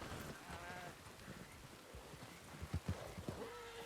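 Horse hooves clip-clopping in a video game, a run of hoofbeats that grows into louder, closer thumps near the end, with faint tonal game sounds above.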